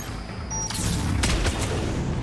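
Weapon fire in Mass Effect 3: a couple of heavy booming shots over a loud, rumbling combat backdrop, with no speech.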